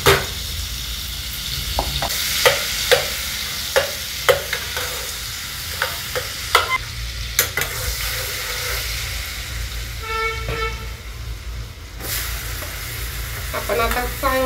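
Butter melting into a ladle of hot oil in a pan for restaurant-style paneer bhurji, giving a steady close sizzle with scattered sharp spoon taps against the pan throughout.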